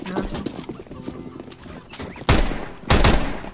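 Gunfire from a weapon in the shooter game CS:GO, two loud broadband bursts near the end following a stretch of quieter game noise and faint background sounds.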